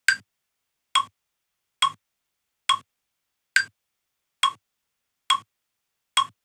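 Metronome set to 69 BPM, giving eight evenly spaced sharp clicks, each short and crisp, with silence between them.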